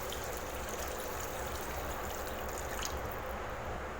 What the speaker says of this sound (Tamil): இப்போ இதுக்கு குழம்புக்கு தேவையான அளவுக்கு நம்ம தண்ணி சேர்த்துக்கலாம்